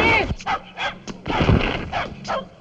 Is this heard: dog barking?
yes